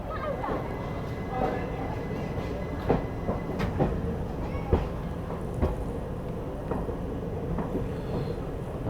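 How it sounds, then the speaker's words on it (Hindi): Inside an ICF first-class AC coach of the 14041 Mussoorie Express as it pulls out of Haridwar railway station, with low rumbling, irregular clanks and wheel knocks, and voices talking faintly underneath. "चलिए यहाँ पर अपनी ट्रेन दोस्तों निकल चुकी है हरिद्वार रेलवे स्टेशन से।"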